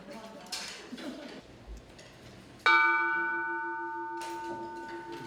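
A single meditation bell struck during a silent group meal at a meditation retreat, one clear resonant strike ringing out and slowly decaying after quieter murmuring and faint dish clatter.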